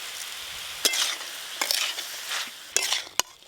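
Fried prawns going into ash gourd cooking in a pan: a soft, steady sizzle broken by a few sharp clinks and scrapes of a utensil against the pan, with no talking.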